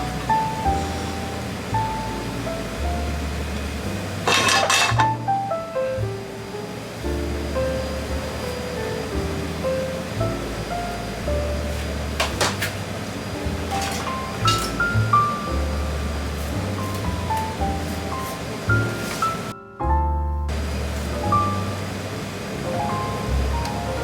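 Garlic and ginger stir-fry in a pan for a pork, garlic sprout and bamboo shoot dish, a loud, continuous hissing sizzle that runs throughout with music playing underneath.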